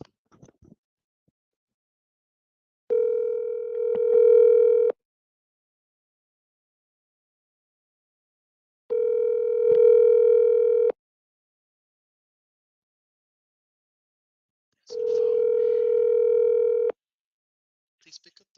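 A telephone ringback tone sounds three times, each a steady two-second buzz separated by long silent gaps, clear and close.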